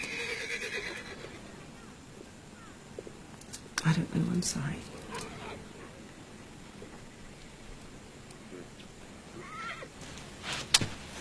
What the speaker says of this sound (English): See to the horses.